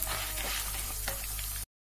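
Chana dal and urad dal fry in oil in a pan for lemon rice, sizzling steadily and close with faint stirring scrapes for under two seconds, with no talk.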